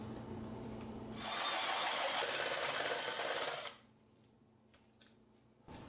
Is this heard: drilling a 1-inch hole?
yes